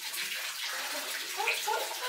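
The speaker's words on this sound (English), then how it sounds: "The fireplace here also has a waterfall." Water from a small waterfall built into a fireplace inside a desert home splashes and trickles steadily, soft and close, with a few brighter drips.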